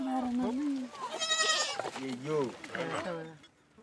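Young goats bleat repeatedly inside a protective livestock coop in a Samburu herding setting, several wavering cries close by and fairly loud in quick succession.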